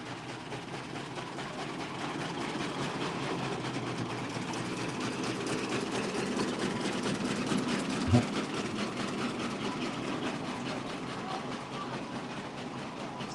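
A steam road locomotive runs steadily nearby, its engine giving a continuous mechanical chugging churn that holds at an even level throughout, with a brief sharp knock partway through.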